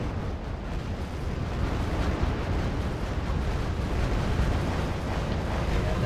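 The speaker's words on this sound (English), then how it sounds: "we can zoom right in to see the tank battle raging on" Dense, rumbling explosions and booming artillery from a tank battle in the strategy video game R.U.S.E. roll on continuously as a thick wall of noise at moderate level.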